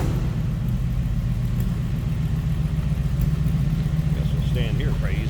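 A 1949 GMC 150 five-window pickup with a crate 350 V8 and 700R4 automatic runs with a steady, low exhaust rumble, close by and constant, with a faint higher whine near the end.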